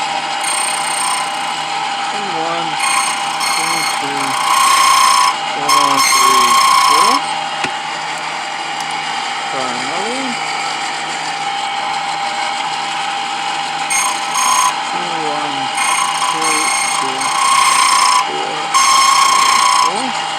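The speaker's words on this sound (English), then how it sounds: "I'm just going to cut this key real quick" Key cutting machine shaping a replacement key for a box truck, a steady close mechanical whir with repeated bursts of grinding as the blank is cut, while someone talks over it.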